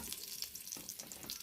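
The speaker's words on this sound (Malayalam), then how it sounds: "ഇതിലേക്ക് രണ്ട് കറിവേപ്പില ഇടുക" Curry leaves dropped into hot coconut oil in a curry pan crackle and sizzle steadily, faint and close with no talk.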